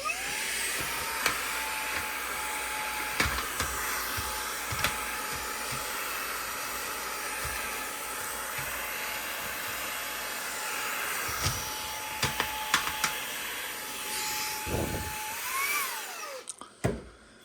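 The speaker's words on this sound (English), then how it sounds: "let's go ahead and just quickly vacuum that up" A vacuum cleaner runs steadily close by, sucking dust out of the inside of an old Japanese PS1 console (SCPH-7500), its whine holding for most of the clip with small knocks and bumps before it cuts off near the end.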